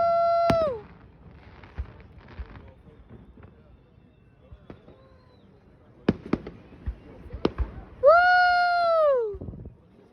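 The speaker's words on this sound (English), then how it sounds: "Look at these orange fireworks." Canada Day fireworks over downtown Edmonton pop and crackle in scattered sharp bursts from a distance, while a nearby person makes long cooing, meow-like vocal calls at the start and end and talks.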